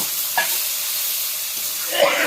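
Snake meat sizzling and frying in a pan with chili powder while being stirred, a steady hiss with scraping stir strokes, close and fairly loud, and no one speaks.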